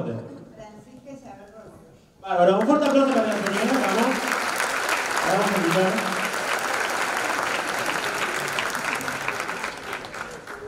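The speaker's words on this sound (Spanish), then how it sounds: "Venga, vamos, un fuerte aplauso." Audience applause at a break dance anniversary show, bursting in after a short stretch of someone talking and then staying loud and steady for the rest, with voices and cheers mixed into the clapping.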